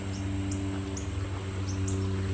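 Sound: birds singing outdoors

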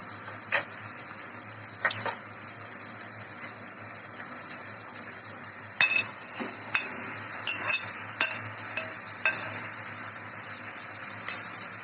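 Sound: taro being sautéed with hilsa fish in a pan

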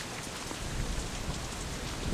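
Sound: rain in a video game

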